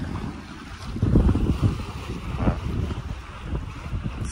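Wind on a sailboat moving at about 6 knots over a flat, sunny sea near the Chausey islands. It sounds like steady close buffeting and low rumbling gusts, with water wash running through the whole clip.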